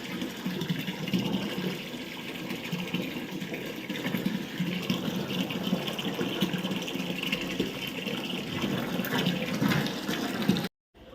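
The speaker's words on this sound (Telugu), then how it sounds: "వాటర్ నల్లు వచ్చిందండి ఇంకా వాటర్ అయితే చేసుకున్నాను" Tap water gushes steadily into a drum for about ten seconds, a broad even rushing splash that cuts off abruptly at the end.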